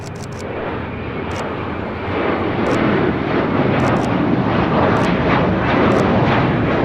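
An American Airlines Airbus A321 rolls for takeoff on runway 25 right at LAX, bound for Charlotte: a loud, steady, broadband jet roar that swells slightly partway through and holds near and continuous.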